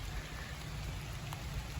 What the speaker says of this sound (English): The rain is starting to pick up again